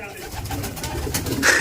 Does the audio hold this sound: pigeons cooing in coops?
yes